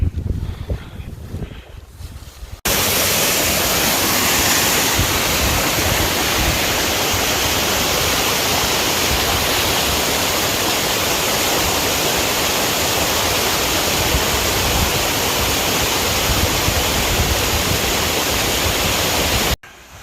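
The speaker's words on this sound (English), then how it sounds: "Last view of the waterfall, Skipper" A roaring waterfall on the Pacific Crest Trail during a windstorm pours in as a loud, dense, unbroken wash of rushing water that begins abruptly and fills nearly the whole stretch before cutting off, after a quieter opening.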